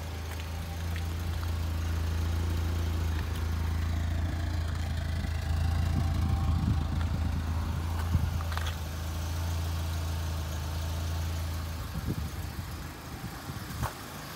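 A 1993 VW Cabriolet engine idles steadily with a low, even hum and faint vibration, heard up close with a few small clicks and knocks near the end.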